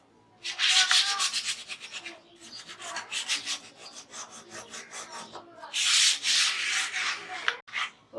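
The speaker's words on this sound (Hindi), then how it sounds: "हम इसे 5-6 मिनट रगड़ लेते हैं धीरे धीरे हाथों से।" An old aluminium kadhai is scrubbed by hand in long rubbing bursts, a harsh, close, gritty scouring noise that swells and pauses, with no talk.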